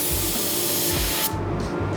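A paint spray gun sprays sealer at full fan, around 25 PSI, a loud steady broad hiss that cuts off abruptly near the end, leaving softer sputtering bursts.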